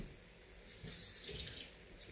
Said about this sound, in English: washing the vegetables